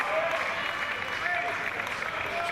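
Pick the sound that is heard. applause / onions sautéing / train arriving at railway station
applause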